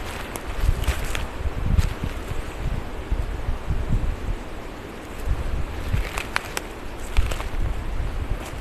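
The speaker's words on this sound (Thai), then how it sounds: "แล้วก็ได้ยินเสียงลมนะคะ" Wind rushes and gusts through forest trees after snowmelt, with rustling foliage and low rumbling buffets rising and falling, fairly faint and steady.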